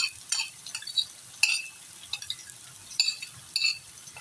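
Spiced yogurt masala is added to potatoes frying for aloo bhujia, with quiet sizzling beneath a series of sharp clinks and scrapes from a spoon stirring in the pan.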